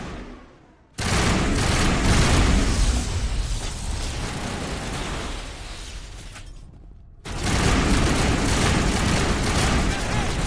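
Gunfire in the sci-fi shooter Mass Effect Legendary Edition: heavy, dense bursts of rapid shots and impacts, loud and sustained, dropping briefly to near silence before another loud volley.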